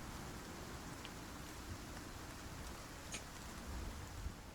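Steady rain falling in the survival game Icarus, a faint continuous hiss with scattered soft drop ticks and no talk, even and unbroken throughout.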